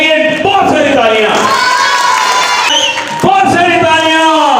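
A school audience at an annual function greets the host with loud cheering and high children's shouts, the crowd noise swelling, briefly dipping, then surging again.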